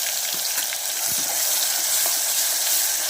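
Masala tipped into golden brown onions frying with cumin in a pan, a steady loud sizzle and crackle that continues evenly throughout.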